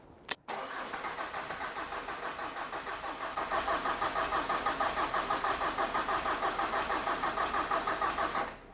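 A Ford Ranger diesel engine cranks with a rapid rhythmic chugging from the starter, then the cranking strengthens and keeps churning for several seconds, loud and close.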